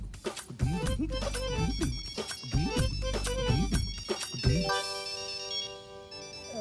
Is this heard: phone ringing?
yes